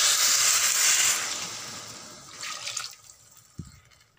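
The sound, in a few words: warm water poured into khichuri pot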